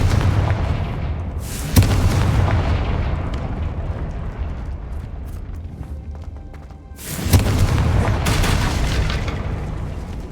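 Confringo blasting spells in the Hogwarts Legacy video game set off two loud, rumbling booms several seconds apart. Each blast has a sharp onset and a sustained roar, and the rumble carries between them.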